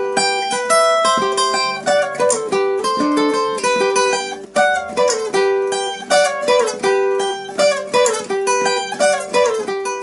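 Guitar plays a fast, bright Seben solo passage in third intervals, rapid plucked notes in a continuous driving rhythm, close and clear with no voice.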